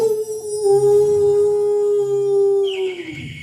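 A voice imitates a dog's long howl, a sustained wavering tone that slides downward at the end, loud and close.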